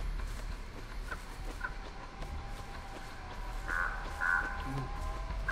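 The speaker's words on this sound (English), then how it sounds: "I'm surprised that more killers don't notice those crows flying around making a hell of a racket like that" Crows in the video game Dead By Daylight caw in a few scattered, moderately faint calls over a steady low ambient rumble, with no one talking.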